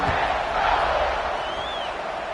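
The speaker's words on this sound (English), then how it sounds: "this crowd is buzzing after that last score" A large football stadium crowd buzzes after a score, a dense, sustained roar of voices with a faint whistle-like rise partway through, loud and steady throughout.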